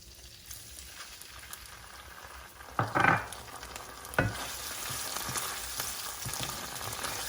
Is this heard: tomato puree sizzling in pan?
yes